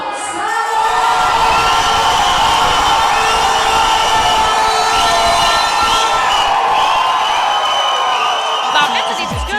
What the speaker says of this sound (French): une foule en délire qui détermine les vainqueurs